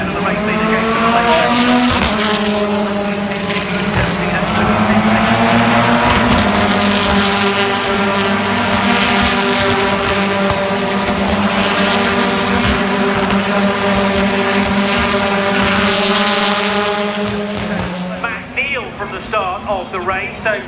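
BTCC touring cars, including Hondas, race at Silverstone with a loud, continuous high-revving engine howl rising and falling through gear changes, with brief tyre noise as the pack passes close by.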